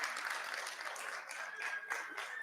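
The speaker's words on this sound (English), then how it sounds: "Let's give them another round of applause" Audience applause for the panelists of a women in cybersecurity panel at Concordia University of Edmonton, a quiet, even patter of many people clapping heard from a distance, steady for its whole length.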